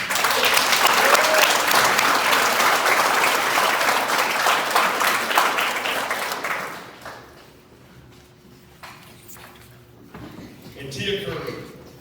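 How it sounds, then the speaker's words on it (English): A room full of people applauds in honor of inductee Mark Thaxton at an induction ceremony, with loud dense clapping for about seven seconds that then fades to a quieter murmur and a few scattered claps. "A round of applause for Mark Thaxton."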